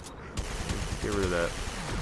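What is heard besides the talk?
turrets firing in a video game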